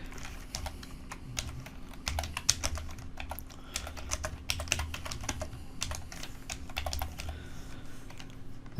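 Rapid, steady typing on a computer keyboard while entering HTML code, close and fairly quiet, a dense run of light key clicks over a low background hum with no talk.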